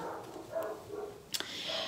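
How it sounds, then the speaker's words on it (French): Dogs barking at someone out on a path, a few short distant-sounding barks and yips spread unevenly across a moment, with no talk. "C'est mes chiens qui s'expriment, qui disent « il y a quelqu'un dans le chemin »"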